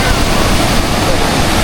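Sea waves wash in at Ao Nang beach in Krabi, Thailand, as a loud, continuous roar of surf mixed with heavy wind buffeting the microphone.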